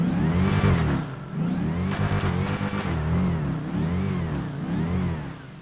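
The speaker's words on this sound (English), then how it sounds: "Here's what the car sounds like." A 6.2 Hemi car engine in GTA 5 revs up and down repeatedly, rising and falling in pitch in a series of close, throaty bursts with a few sharp mechanical clicks.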